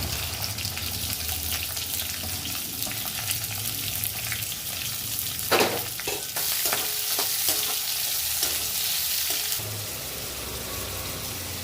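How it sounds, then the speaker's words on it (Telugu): Thinly sliced onion and curry leaves fry in oil in a pan for an egg fry, giving a steady close sizzle with stirring scrapes and a few sharper clinks, no talk. "సన్నగా కట్ చేసుకున్న ఆనియన్ వేసుకోవాలి."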